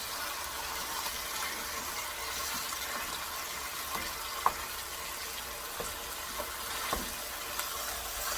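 Ground beef frying in a pan while being mashed down to brown, a steady soft sizzle with scattered clicks and scraping taps of the utensil against the pan.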